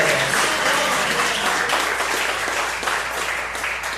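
A church congregation claps hands loudly and continuously during a worship service, a dense close wash of clapping with no voices.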